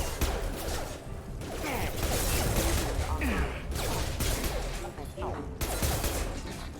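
Rapid pistol gunfire and impacts in the sci-fi shooter Mass Effect 2, loud and dense bursts running throughout, mixed with game effects and a voice talking over it.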